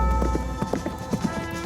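Horse hooves clop in an uneven, close rhythm in a Welsh remake of The Magnificent Seven, a short run of several loud hoofbeats with no talking.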